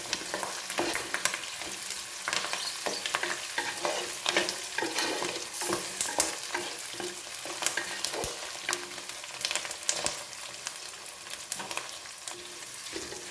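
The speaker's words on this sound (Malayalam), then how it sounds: "ഇനി അത് നന്നായിട്ടൊന്ന് വഴറ്റാം." Chopped Kashmiri chillies fry in oil for garlic pickle, a close, dense sizzle broken by frequent sharp scraping stirs of a spatula against the pan, busy and steady throughout with no voices.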